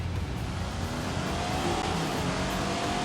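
A car engine in The Grand Tour game, driven around Chatsworth House, runs at sustained speed with a rising drone as revs climb, loud and steady over road noise for a few seconds.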